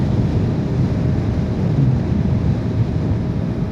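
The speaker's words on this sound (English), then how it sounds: "Oh, wow, it is windy." Strong wind roars steadily past a rider on a 2025 Yamaha R125 in wet conditions, a loud continuous low rumble with gusty buffeting and no speech.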